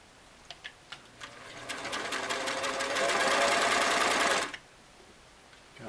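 A Singer Model 337 sewing machine, under restoration, runs its first stitches: a few sharp clicks, then a steady, loud mechanical whir of rapid stitching for about three seconds before it stops abruptly.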